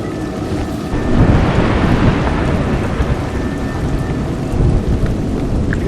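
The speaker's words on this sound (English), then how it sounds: "You seem surprised that rain comes from the heavens." Heavy rain pours steadily while low thunder rumbles and swells, with no voices, in the video game A Juggler's Tale.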